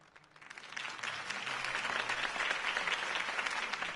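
A crowd breaks into sustained applause after Harvey Dent's campaign speech in the Batman Telltale game, swelling after a quiet start into a dense, steady wash of clapping that holds to the end.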